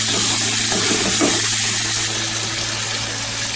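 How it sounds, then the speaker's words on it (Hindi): Chicken pieces fry in very hot ghee, giving a steady, close sizzle and bubbling hiss over a low, constant hum, with no voices. "देखिए मैंने चिकन डाल दिया है, घी काफी ज्यादा गर्म है।"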